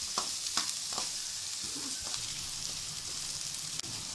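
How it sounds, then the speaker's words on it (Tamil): Mustard seeds, curry leaves and onion sauté in oil in a pan, a faint steady sizzle with a few soft spatula scrapes early on. "அதே பேனில் கொஞ்சம் எண்ணெய் ஊற்றி கடுகு கருவேப்பிலை வெங்காயம் போட்டு எண்ணெயில் நல்லா வதக்குங்க"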